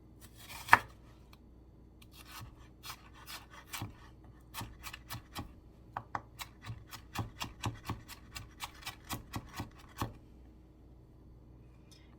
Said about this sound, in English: at this point, I've been cutting for a little while